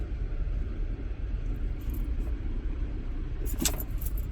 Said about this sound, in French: la voiture, elle est passée en deuxième